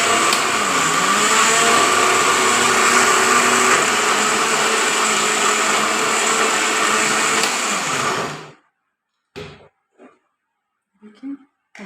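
A blender grinds ginger garlic paste in a loud, steady whirring drone for about eight seconds, then cuts off abruptly, followed by a few short clattering knocks and scrapes.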